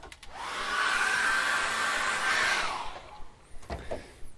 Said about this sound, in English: Let me just get a hairdryer to this now.